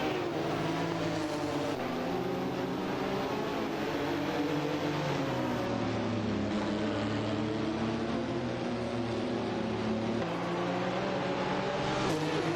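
A Ferrari 50 GT and a Dower 962 LM race in a video game, their engines droning steadily and close with shifting pitch as they battle for position.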